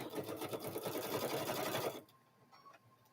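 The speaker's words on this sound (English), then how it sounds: "So we're going to go ahead and start stitching." Sewing machine stitching a quilted handbag, a rapid, close rhythmic clatter of the needle running for about two seconds before stopping abruptly into near silence.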